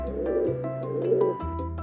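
A pigeon coos in a low, rolling rhythm over a gentle musical backing in a children's animal-sounds song, with two clear coo phrases close and moderately loud.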